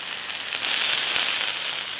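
Loud, steady hissing sizzle of an Iceland Big Daddy sirloin steak cooking up close, continuous crackle swelling slightly midway with no talk.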